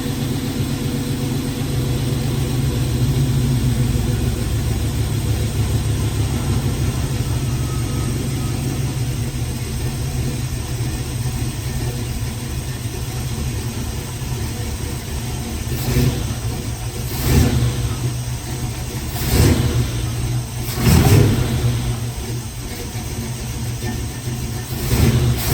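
The engine of a Chevy C20 truck rumbles at idle, then revs in several sharp surges toward the end. The sound is loud and close, with voices talking over it.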